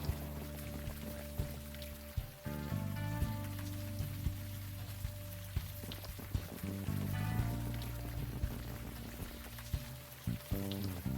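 Steady rainfall in the Unavowed video game, a constant soft patter and hiss running beneath layered music with low tones and sustained chords, with no voices.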